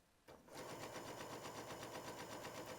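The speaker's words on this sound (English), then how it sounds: "To finish your edge on a sewing machine, set your machine to a zigzag" A sewing machine starts up and runs a zigzag stitch along a fabric edge, with a fast, steady mechanical whir and rhythmic needle pulses close by.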